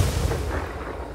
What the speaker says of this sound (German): Meine Güte, wie oft soll ich auf diesen Panzer noch schießen?